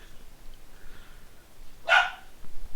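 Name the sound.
puppy barking in a Mana series video game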